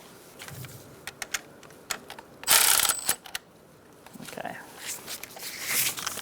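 A torque wrench tightens an alternator bolt on a 2012-2017 Hyundai Accent 1.6L L4, with a few sharp mechanical clicks and ratcheting noises, close by, amid shuffling workshop handling sounds.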